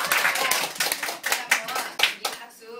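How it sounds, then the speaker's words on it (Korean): A group clapping hands in a guided exercise, a lively burst of overlapping claps lasting under three seconds before stopping. "박수를 한번 치볼게요"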